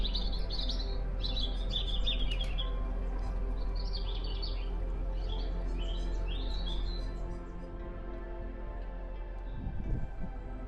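Small birds sing beside a canal, bright twittering phrases repeating for several seconds over a steady low hum, then fading out as a soft thump sounds near the end.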